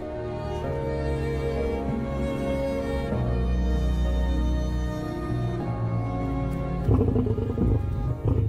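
Lions roaring in the Botswana wild, deep sustained rumbling calls that swell and carry on steadily, loud and close, with a harsher burst near the end.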